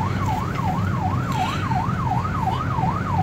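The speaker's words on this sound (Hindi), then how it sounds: "अबे एम्बुलेंस जा रही है, एम्बुलेंस को कोई जगह ही नहीं दे रहा यार" An ambulance siren wails in a Karachi traffic jam, its loud, close tone sweeping up and down in a steady repeating cycle over the low rumble of idling traffic.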